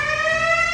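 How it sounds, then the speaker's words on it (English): A fire station alarm gives a steady, piercing electronic tone, loud and unbroken for under a second with nothing else heard. "Do you hear that? That's an alarm!"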